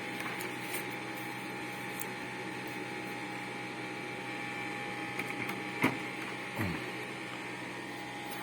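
An Epson L5190 printer scans a document with a steady, even mechanical hum throughout, broken by a couple of faint clicks and a short knock near the end.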